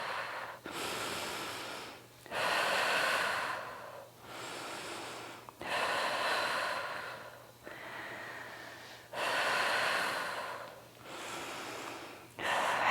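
Heavy rhythmic breathing during a core and pelvic floor workout with a p.ball, loud close inhales and exhales alternating in long bursts with short pauses between.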